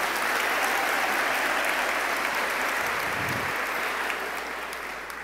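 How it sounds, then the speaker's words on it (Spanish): Sustained applause from a church congregation during a sermon, loud and dense from start to finish and easing off slightly at the end, with no voices over it. "denle un aplauso al Señor"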